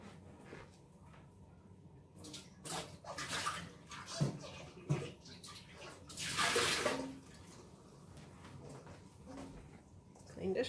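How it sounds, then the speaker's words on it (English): A basin of dish water is dumped out while washing up off-grid with minimal water, with splashing pours and brief gushes of water, one larger surge midway, amid quiet handling sounds. "And then you dump this water."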